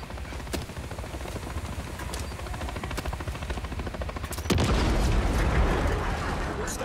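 Combat in Call of Duty: Modern Warfare III on PC as a helicopter takes damage: a steady rotor-like roar under sharp gunfire cracks, then a heavy explosive burst swells midway and holds loud to the end.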